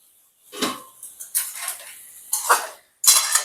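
Metal lid set onto a wok of jackfruit curry, a few sharp clanks and scrapes of cookware in quick succession, close and loud with no talk.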